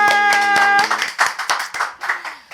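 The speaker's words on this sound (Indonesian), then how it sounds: "Tepuk tangan dong semuanya" A small group claps in a podcast studio, a short burst of hand clapping that begins over a sustained musical chord and then continues alone as a dozen or so sharp, uneven claps before tapering off.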